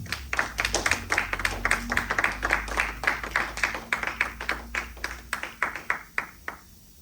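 A church congregation applauds, a close crowd of hands clapping in a quick rhythmic beat with low music underneath, tapering off toward the end.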